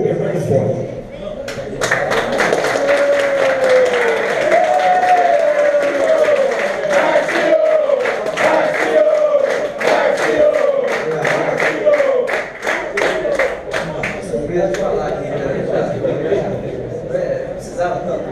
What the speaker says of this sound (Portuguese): Mas eu agradeço a aplauso aqui de todos vocês.